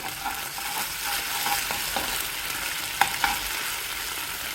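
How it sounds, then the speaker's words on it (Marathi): Red chilli, tomato, schezwan and soy sauces fry in a pan for veg manchurian, giving a steady close sizzle with a few soft stirring scrapes and clicks. "तर सर्व सॉस आपण पॅनमध्ये टाकलेले आहेत. ते फ्राय करून घेऊया आपण."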